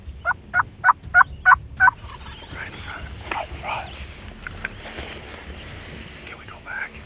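Wild turkeys during turkey season call in a burst of about six loud, evenly spaced gobbling calls, followed by fainter scattered calling and rustling outdoors, with soft whispered voices.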